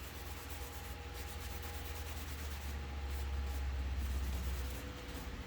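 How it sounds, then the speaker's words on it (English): Paint is rubbed off a Wolf Predator plasma caster prop with a continuous, soft, scratchy rubbing that stays steady and close throughout. "Now I've almost rubbed it completely off, with leaving this highlights and lowlights of that blue."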